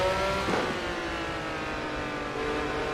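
A steady, buzzing race car engine drone with revving tones from a racing video game, a Ferrari 312T or Lotus 72D at Silverstone, continuous and fairly loud, with no voices.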